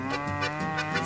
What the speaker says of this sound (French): Sa campagne, ses vaches,